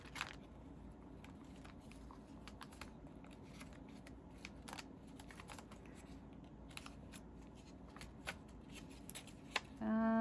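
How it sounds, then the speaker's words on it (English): Paper crinkling and rustling as someone searches through junk journal papers and belly bands, a steady run of soft close-up crackles and shuffles with occasional sharper crinkles and a brief louder handling noise at the end. "I hear paper crinkling in there."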